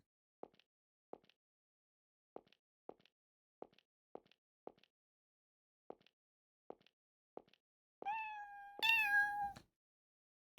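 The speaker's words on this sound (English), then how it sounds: "Mew is a sound that cats make." A cat gives a couple of clear, close meows near the end, after a quiet stretch broken only by faint, evenly spaced soft clicks.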